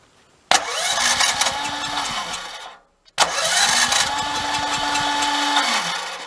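A generator's electric starter cranks its engine twice with the choke on, each long, loud churning attempt running several seconds without the engine catching, separated by a short pause.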